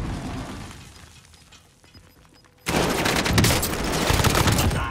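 A loud explosion bursts suddenly midway through a match of the video game Call of Duty Warzone, followed by a sustained dense roar of blast debris and gunfire after a quieter stretch of battle noise.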